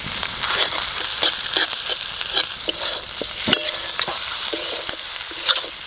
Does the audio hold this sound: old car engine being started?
no